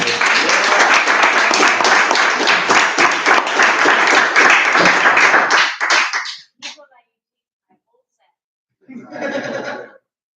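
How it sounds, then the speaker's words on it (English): Audience applauding a poet at a California poetry reading night, a dense steady burst of clapping lasting about six seconds, then stopping, with a shorter second round of clapping near the end. "How about a big round of applause for KR Morrison?"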